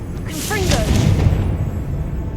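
A Confringo blasting spell in Hogwarts Legacy fires with a whooshing burst and a deep rumbling explosion that fades over a second or two, following a short spoken word.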